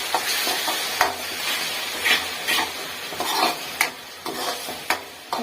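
A spoon repeatedly stirs onion and tomato gravy frying in hot oil in a home kitchen pan, with a steady sizzle and irregular scraping strokes close by, no talking.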